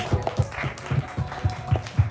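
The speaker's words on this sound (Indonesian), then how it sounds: "Tepuk tangan untuk kita semua." An audience at a school drama performance claps in unison, with a steady run of about eight evenly spaced, moderately loud claps and a faint voice in the background.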